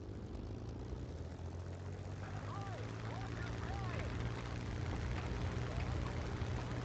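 An aircraft in War Thunder runs up for takeoff with a constant droning engine hum and a low steady tone, while a voice talks over it.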